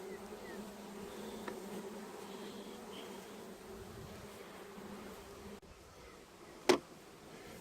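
Honey bees buzz around a hive opened during a split for transfer to a top bar hive, a faint, steady drone with one brief sharp knock near the end.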